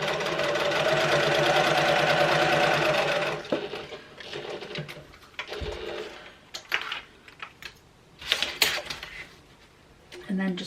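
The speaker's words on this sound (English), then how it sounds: "I'm going to sew along those lines." A sewing machine top stitching a fabric clutch wallet whirs steadily for about three seconds, then gives way to scattered clicks, short stitching bursts and handling noises, with quiet talk in between.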